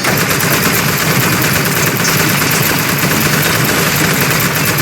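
A turret in the Portal video game fires continuously in a loud, dense, unbroken rattle of rapid gunfire that lasts the whole stretch, with no talking.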